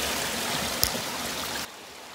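A creek runs steadily toward a road culvert ahead of an atmospheric river, a close, continuous broadband rush of flowing water with one brief knock partway through before the sound drops away abruptly.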